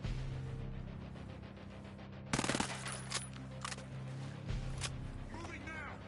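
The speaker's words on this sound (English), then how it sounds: "Gun turret. Gun turret." Rapid automatic gunfire from a gun turret in the video game Ghost Recon Breakpoint rattles in loud bursts, the heaviest volley midway, amid background hum and brief voices.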